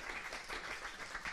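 An audience applauds at a formal meeting session, a dense steady patter of many hands clapping throughout.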